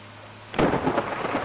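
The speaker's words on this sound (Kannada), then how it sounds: "ಆ ಗುಡುಗು ಸೌಂಡ್ ನೋಡಿ ಯಾವ ಥರ, ತುಂಬ ಚೆನ್ನಾಗಿ ಮಾಡಿದ್ದಾರೆ ಫ್ರೆಂಡ್ಸ್." Thunder and rain in the Bus Simulator Indonesia driving game: a sudden deep thunderclap bursts in after a quiet stretch of rain hiss, then rumbles on heavily with rain continuing beneath.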